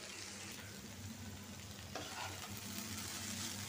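Okra fries in a pan, giving a soft, steady sizzle with light stirring scrapes, fairly faint and close, with no voices.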